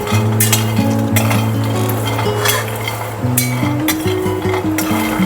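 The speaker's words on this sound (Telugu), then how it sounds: "కొంచెం స్లో ఫ్లేమ్ మీద లైట్గా వేయించుకోవాలి ఇవి." Pumpkin seeds lightly dry-roasting in a pan over a slow flame, with a steady soft sizzle, repeated metallic scrapes and clinks of a stirring spoon, and a musical tune playing underneath.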